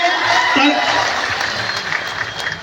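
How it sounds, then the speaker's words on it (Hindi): Dense, steady applause from a large crowd at an Adivasi unity rally held for a legislator, loud and close, with voices mixed into the clapping throughout. "जोरदार तालियां विधायक महोदय के लिए।"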